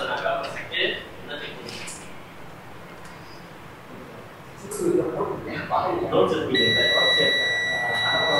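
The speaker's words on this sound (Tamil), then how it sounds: "மல்டிமீட்டரில் வந்து பீப் மோட்டில் வச்சுக்கலாம்." A multimeter in continuity beep mode gives a steady electronic tone near the end while a technician probes a dead mobile phone's circuit board, with speech throughout.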